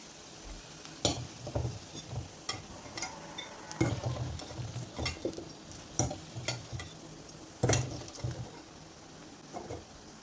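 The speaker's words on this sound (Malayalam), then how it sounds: "ഈ വെളിച്ചെണ്ണയിലൊന്ന് വാട്ടിയെടുക്കണം." Potatoes fry in coconut oil in a pan for a potato roast, giving a soft continuous sizzle broken by repeated scraping and stirring knocks from a utensil, with no talking.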